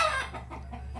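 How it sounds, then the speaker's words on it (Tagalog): A hen perched up in a tree gives a brief, close cluck, a single short call over faint background noise. "Si inahin nandiyan sa taas ng ano, ng kahoy."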